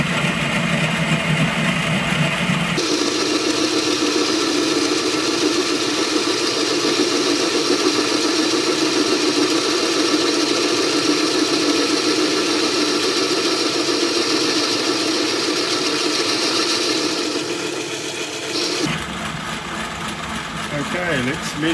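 A B30 vertical milling machine runs at about 200 RPM while cutting a workpiece diameter, a steady loud mechanical hum and whine sustained for most of the span, starting and stopping abruptly at either end, with talk around it.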